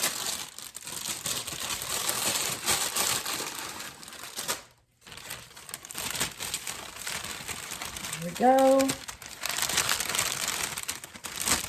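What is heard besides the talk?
crinkling Easter grass put into a gift bag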